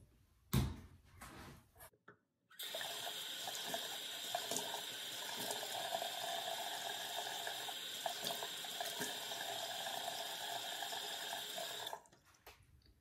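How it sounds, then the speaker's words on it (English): Water from a sink tap runs steadily for about ten seconds during face washing, a close hissing splash broken by a few brief clicks and handling knocks before and after. "So I'm gonna wash my face."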